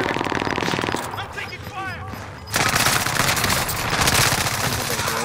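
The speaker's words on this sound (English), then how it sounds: "taking fire." Rapid automatic gunfire from a Call of Duty: Modern Warfare match, dense bursts of shots that ease off briefly and then resume louder, with a player's voice talking over the battle.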